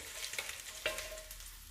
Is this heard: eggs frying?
yes